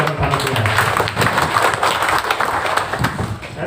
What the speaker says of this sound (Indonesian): Tepuk tangan untuk teman-teman panitia